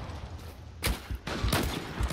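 Gunfire in the video game Zula arrives as two or three loud, sharp shots, each with a short ringing tail over steady background noise, close by and brief, with no speech.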